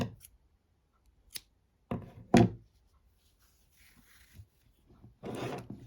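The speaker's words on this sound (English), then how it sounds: "So you're just going to cut, leaving a tail for sewing." Scissors cut crochet yarn up close: a few short, crisp snips and rasps come in separate bursts with quiet gaps between them and no speech.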